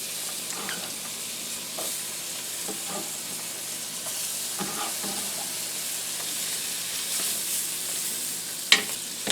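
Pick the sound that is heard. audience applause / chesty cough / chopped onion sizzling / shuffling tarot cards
chopped onion sizzling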